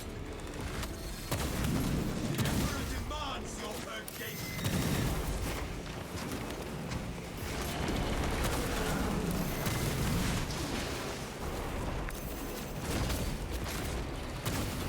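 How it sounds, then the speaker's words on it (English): Plasma guns fire on a Hive Tyrant in Space Marine 2, with repeated heavy bursts and booming impacts layered in a dense, chaotic battle mix, while a voice talks over it at times. "Let me show you the damage of the plasma guns against the Hive Tyrant."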